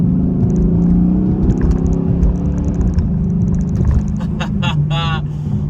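A Chrysler 300C SRT8 takes a corner, its engine humming steadily inside the cabin with a low drone and slight pitch changes, while a person talks over it.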